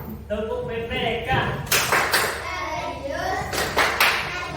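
Schoolchildren in a classroom do a patterned group clap chant led by their teacher, with sharp bursts of claps in unison between chanted words, close and lively, mixed with children's voices.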